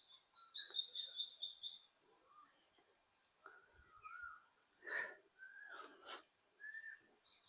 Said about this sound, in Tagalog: Mga huni ng ibon. Mapapakinggan.